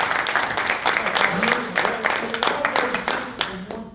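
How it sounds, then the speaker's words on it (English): A class audience claps in a scattered, moderately loud round of applause that continues steadily, with some voices talking over it. "everybody give them a big round of applause"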